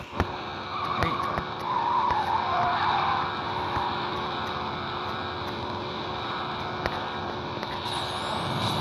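Tires screech and skid as a car drifts in the Need For Speed No Limits racing game, a long squeal over a constant engine roar that settles into a steady drone.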